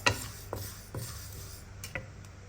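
Spice mix of fenugreek and mustard seeds frying in oil, with a few sharp spoon taps and scrapes against the pan over a low, steady sizzle.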